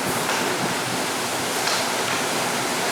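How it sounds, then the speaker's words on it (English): Hurricane Ivan storm surge waves crash over the deck of a house that is coming apart, a loud, continuous roaring wash of water and wind with no break, close and overwhelming. "That's the waves coming over the deck."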